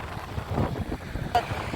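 Strong wind buffets the microphone with a steady low rumble and gusty roar, with no voices.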